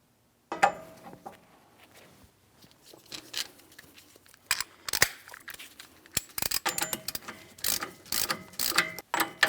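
A hand ratchet clicks as a wheel hub is tightened on a 2007-2014 Ford Edge, the close, sharp metallic ticks coming in irregular clusters with light handling clatter between them.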